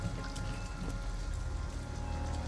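Steady rain falling in the video game Detroit: Become Human, a dense continuous patter of drops on surfaces with scattered sharper splashes, close and even throughout without any voices.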